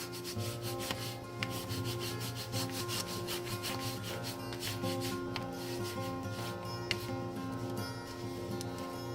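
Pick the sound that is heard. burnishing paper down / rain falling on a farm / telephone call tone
burnishing paper down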